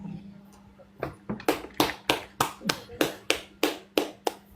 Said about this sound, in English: Y'all clap it up.